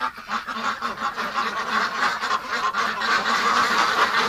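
A flock of geese honking together on a cold winter homestead, with dense overlapping honks and calls sounding continuous and fairly close, with no talk.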